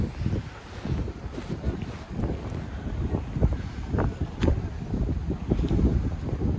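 Wind gusting at Cala Ratjada harbour on Mallorca, a low rumbling buffet against the microphone that swells and drops in irregular gusts, fairly close and steady, with no voices.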